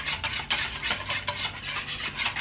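A spoon scrapes and stirs through a thick barbecue sauce for pork ribs in a pot or bowl, a steady, close, wet swishing rhythm with no talk.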